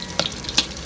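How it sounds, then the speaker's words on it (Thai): Chinese sausage frying in hot oil for a Thai street-food salad, a soft steady sizzle marked by two brief crackling pops. "น้ำมันร้อนแล้วมันก็จะเริ่มเปลี่ยนสีแล้ว"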